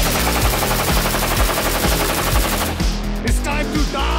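AK machine guns firing at a rifle match, sustained rapid full-auto bursts with a steady fast rhythm, loud and close, as the firing breaks up into a few ragged shots at the end.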